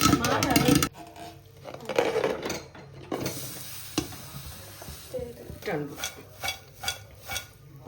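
Popcorn pops in bursts inside a covered pot, sharp irregular cracks over a sizzling base, with metallic clatter early on.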